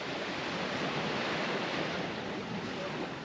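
Ocean waves wash onto a sandy Caribbean beach in Cuba, a steady broad hiss of surf with some wind noise, continuous and fairly close, with no talking.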